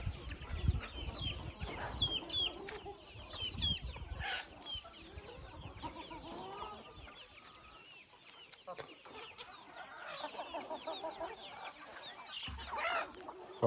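Free-range desi gavran chickens on a farm, scattered clucks and soft calls from several birds near and far, with faint background noise and brief sounds of handling.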